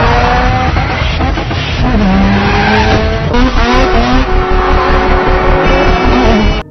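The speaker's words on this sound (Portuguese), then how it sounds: "Ele fazia drift, ele corria pela cidade, o som do motor desse carro era muito louco." A Mazda RX-7 drifts in a Fast and Furious film scene: a loud, sustained engine roar is joined by wailing tire squeal through the slide, with no talking.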